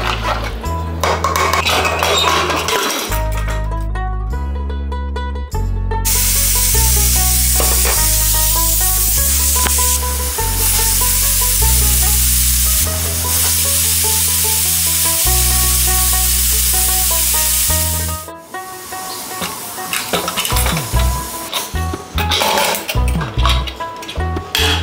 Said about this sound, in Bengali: চুলাটা জ্বালিয়ে একটা প্রেসার কুকার বসিয়ে দিলাম আর দিয়ে দিচ্ছি মটনটা